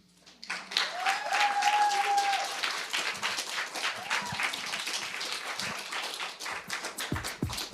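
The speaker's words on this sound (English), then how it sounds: "Keep that applause going." Audience applause after a poetry reading at Rollins College, a sustained wash of many hands clapping that swells quickly, holds for several seconds and then thins, with a few scattered voices and whoops.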